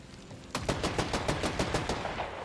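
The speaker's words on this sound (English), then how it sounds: "watch the bullets come out" Rapid automatic gunfire from a weapon in the video game Borderlands 4, a loud, evenly spaced burst of about a dozen shots after a brief quiet start, with no talking.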